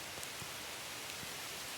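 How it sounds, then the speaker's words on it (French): Steady, even rain hisses continuously over a marsh, with faint patters on a surface. There are no voices. "On est pogné dans la pluie."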